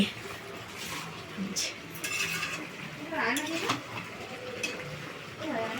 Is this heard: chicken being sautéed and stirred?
yes